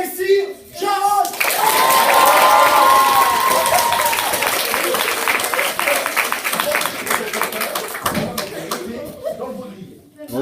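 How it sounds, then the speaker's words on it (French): An audience at a knighting ceremony bursts into sustained clapping and cheering for the knight Jarod, loud and dense, fading out after several seconds with voices mixed in. "je vous prie, messieurs, dames, d'acclamer Messire Jarod"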